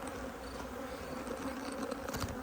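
Honeybees hum steadily inside a hive during queen rearing, a dense and continuous buzz of many insects heard close up, with no talking over it.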